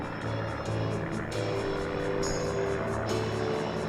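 Propeller airplanes of a formation team fly overhead at an airshow, producing a continuous droning engine hum that swells and shifts in pitch as they pass, heard at moderate distance.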